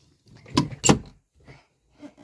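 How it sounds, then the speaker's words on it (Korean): A microwave door swings open with two quick, solid clunks, followed by a couple of faint clicks. "전자레인지 문을 열고"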